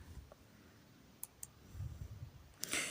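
Quiet computer mouse clicks: two faint crisp clicks close together, then a louder click near the end, over low room noise with no talk.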